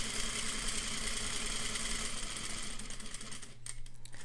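A sewing machine runs a steady, fast stitching hum through fabric while sewing concentric square, circle and triangle shapes, close by and even in level, then slows and changes near the end.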